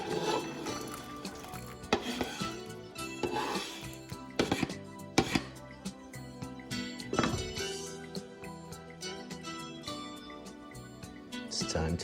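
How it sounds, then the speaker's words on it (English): Carrots tumbling into a pot of cabbage soup, heard as a series of knocks, clatters and soft wet plops against metal, spread irregularly over about twelve seconds with a few sharper clanks, close by and moderately loud. "And so in go the carrots."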